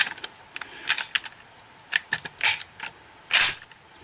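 A classic deer rifle's bolt action pivots and works through a string of sharp, close mechanical clicks and clacks, irregular in rhythm, ending with a louder, longer rattle.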